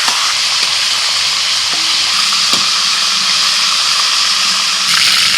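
Bay leaves, cardamom, cinnamon, cloves and whole cumin fry in oil over a wood-fired clay stove, giving a steady loud hiss with a few faint knocks, no voices.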